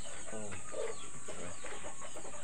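Chickens cluck in short, scattered bursts close by, over a constant background hiss.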